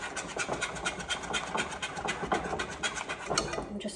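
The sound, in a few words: whisking pumpkin spice coffee cake batter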